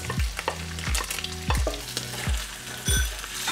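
Carrots fry in a pan with a steady sizzle, broken by repeated scraping strokes of a utensil stirring them at a regular pace, close and clear.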